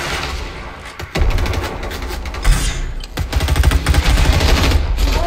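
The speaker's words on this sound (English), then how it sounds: "I'm being shot." Rapid gunfire in a Fortnite match, with bursts of automatic shots and heavy booming hits crowding close around the player, loud and dense throughout with no talking.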